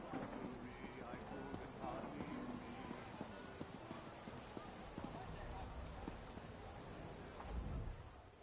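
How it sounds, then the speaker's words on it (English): Horses galloping in The Elder Scrolls Online, a faint, continuous patter of hoofbeats clip-clopping through an outdoor game scene, with speech-like sounds mixed in and a louder thump near the end. "It's horses. A bunch of impatient folk left town on them and ran through here first."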